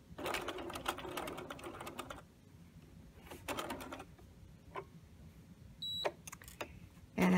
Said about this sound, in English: We'll backstitch up to that marking.